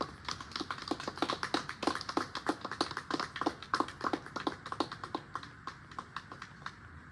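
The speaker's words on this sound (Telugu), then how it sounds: "ఒకసారి అందరూ గట్టిగా చప్పట్లు కొట్టండమ్మా" A crowd claps together at a Lalitha homam ritual, many hands producing dense, rapid, uneven applause that holds steady for several seconds.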